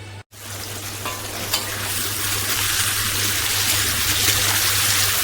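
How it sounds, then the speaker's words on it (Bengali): Pumpkin slices hit hot oil with a short clatter, then a loud continuous sizzle of frying that swells and holds steady, no voices. "প্রথমে কুমড়োটা একটু কেটে নিয়েছি, কুমড়ো ভাজা করব। আর এদিকে তেল বসিয়ে দিয়েছি।"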